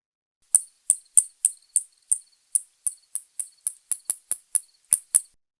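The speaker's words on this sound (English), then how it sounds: "that one was a spotted bat and it was hunting" A spotted bat's hunting echolocation calls: a series of sharp, high-pitched clicks repeats at an uneven, gradually quickening pace, crisp and isolated against silence.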